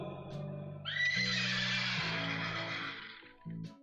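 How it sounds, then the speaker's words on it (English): A horse whinnies loudly and close, one long rising and falling neigh over a low steady hum, then a brief snort-like burst at the end. "And there went the horses."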